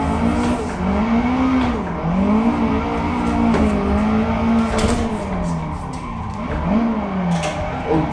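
A Nissan S15 driven in a racing sim video game, engine revs rising and falling in repeated swells alongside tire squeal and skidding, loud and continuous with brief clicks over it.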